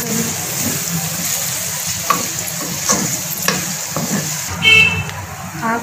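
Vegetable fried rice with cabbage is stirred and mixed in a hot pan, a steady sizzle of frying with scraping spatula strokes and a few clinks, loud and close, with a voice briefly heard.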